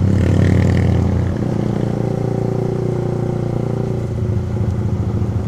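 A motorcycle engine revs steadily at a Sunday group ride, a continuous loud throaty drone with a slight dip in pitch partway through, close by and without talking.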